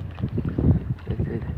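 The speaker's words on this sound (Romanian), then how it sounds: "sper să nu se audă tare vântul. O, se audă." Wind buffets a microphone outdoors, producing a continuous low rumbling roar that fills the whole stretch, with some faint background sounds mixed in.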